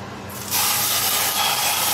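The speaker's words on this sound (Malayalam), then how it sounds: "ഞാൻ നെയ്യ് അതിൻ്റെ മുകളിൽ കൂടെ ഒഴിച്ചു കൊടുക്കുക." Hot ghee poured over layered fish biryani with mint leaves, giving a sudden steady sizzling hiss that starts after a brief quiet moment and carries on evenly to the end.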